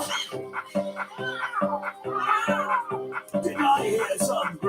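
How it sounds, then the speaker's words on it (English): Grumpy cat meows and whiny, dog-like yips come in a rapid rhythmic series, then grow into mixed, overlapping complaining cries, loud and close. "Did I hear some grumpy meows?"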